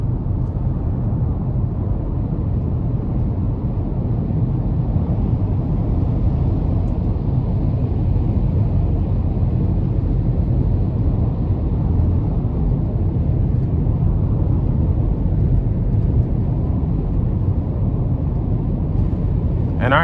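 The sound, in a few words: 2021 GMC Terrain 1.5T car accelerating on the highway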